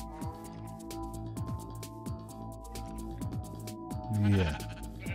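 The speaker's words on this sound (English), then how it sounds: "Is that just a black sheep over here?" A sheep bleating in the Minecraft video game on PS3, one clear wavering bleat near the end over a droning musical background with repeated dripping and squishing game sounds.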